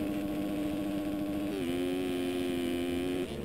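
A motocross bike launches from the start gate in a motocross video game, its engine holding a steady, buzzing mid-pitched drone that steps up slightly in pitch partway through, moderately loud and alone.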